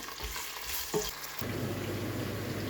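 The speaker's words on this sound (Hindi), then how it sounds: "प्याज को करेंगे हल्का सा ब्राउन।" Onions frying in oil in a pan until lightly browned, a steady sizzle with a stirring scrape partway through, close and moderately quiet, no voices.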